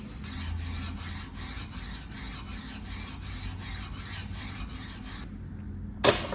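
A rasp scrapes over a peeled log for a log home in steady, rhythmic strokes, close and even, then stops, followed by a brief sharp knock.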